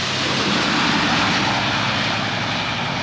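An EasyJet airliner's engines, heard from inside the cabin, make a loud, steady, broadband roar and whoosh that stays constant without any break or voices.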